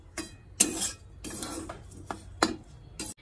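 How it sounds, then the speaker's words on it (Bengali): Food seasoned with salt, turmeric and sugar is stirred in a pan, a utensil scraping and knocking against the metal in several close, uneven strokes with short pauses between them. "এবার ভালো করে আবার নাড়াচাড়া"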